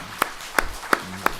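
Four sharp, evenly spaced claps ring out one at a time in a quiet room during a Buddhist monk's talk, each a crisp single hand clap with silence in between.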